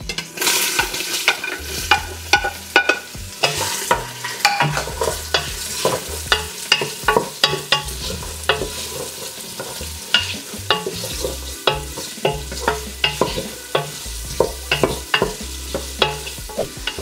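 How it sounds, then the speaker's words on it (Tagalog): Carrots, onion and onion leeks with spring onion ends sautéing together in a pan, a steady loud sizzle broken by repeated scraping and clattering stirs of a utensil against the pan. "Yan, gigisahin natin yan sabay-sabay."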